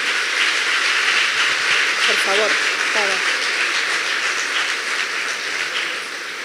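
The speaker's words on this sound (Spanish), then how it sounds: "No lo digo para que me aplaudan" Steady wash of applause from a conference audience listening to a talk about the Israel–Hamas war, sustained and evenly spread, with a speaker's voice briefly cutting in over it.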